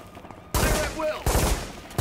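Gunfire breaks out in a tense standoff scene from the 2006 release of Reservoir Dogs: a sudden loud volley of shots, then dense, overlapping bursts that keep hammering away in close succession, with a voice briefly heard partway through.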